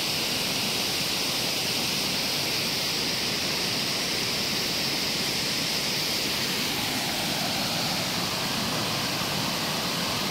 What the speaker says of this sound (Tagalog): Update sa falls natin ngayon